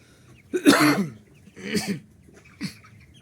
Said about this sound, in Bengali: ভালো করে খেয়াল করে শুনলে দেখবেন যে মুরগির গলার ভিতরে একটু গড়গড় শব্দ হয়